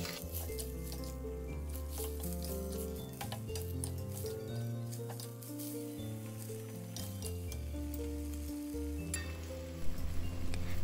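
Capcay vegetables tossed with oyster sauce in a wok hiss and sizzle steadily while a utensil clinks and scrapes now and then, alone under soft background music.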